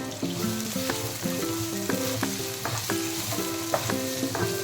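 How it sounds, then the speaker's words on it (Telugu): Onions sizzle and crackle steadily as they fry in oil in a pan, with occasional stirring. A soft melodic tune plays underneath throughout. "ఆనియన్స్ని కొంచెం ఫ్రై చేసేసుకోవాలి"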